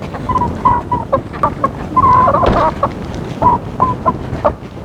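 Newly bought hens cluck repeatedly up close on the way to their coop, a busy overlapping series of short clucks and calls over rustling movement, without speech.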